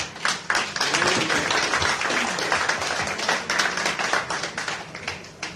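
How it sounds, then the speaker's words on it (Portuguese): A crowd at Sidney Isidora's 68th birthday celebration claps steadily for several seconds, a dense, continuous applause that thins into separate claps toward the end. "Damos um aplauso"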